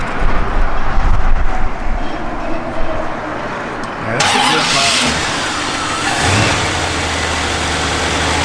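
A 1967 Oldsmobile 442 convertible's engine runs close by. It starts with a loud, rough rumble, then drops to a steadier, deeper idle, with a few brief bumps in the revs.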